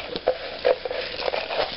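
Paper raffle tickets tossed and shuffled by hand in a container, a steady papery rustle broken by a few brighter crinkling bursts, close and moderately loud with no talking.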